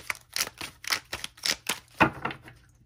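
Tarot cards that stick together are shuffled in a series of close, crisp flicks and slaps in an uneven rhythm, ending with one louder snap, and no talk.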